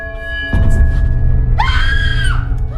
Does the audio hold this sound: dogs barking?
no